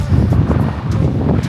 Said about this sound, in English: It's just very windy.